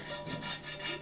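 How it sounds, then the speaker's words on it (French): Hand sanding of ceramic restoration filler, a quick series of soft rhythmic rasping strokes, close and faint, with no talk. "Donc le ponçage, ça peut durer assez longtemps"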